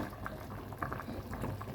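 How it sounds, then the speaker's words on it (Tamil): A pot of Jaffna-style fish curry bubbles and simmers steadily, with soft popping and gurgling over a low, constant rumble, close by and without any talking. "ஓ நல்லா கொதிச்சிட்டுது"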